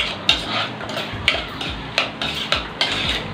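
Waldorf salad being mixed in a bowl, a utensil scraping and clinking against the sides in a steady series of sharp, close strokes roughly every half second, with no talking.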